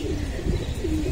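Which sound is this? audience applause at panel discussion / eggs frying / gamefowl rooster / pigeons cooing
pigeons cooing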